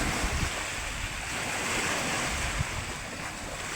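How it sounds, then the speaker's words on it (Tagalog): Ocean waves and strong northeast monsoon wind on the Palawan coast, a steady loud rush of surf with gusting wind buffeting the microphone, no voices. "kasi malalaki pa yung alon guys, malakas pa yung amihan"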